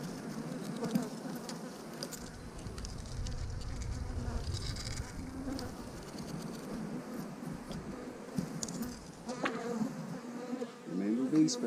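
Honey bees buzzing steadily around open hive frames during an inspection, a dense close swarm hum with occasional brief handling noises and no speech.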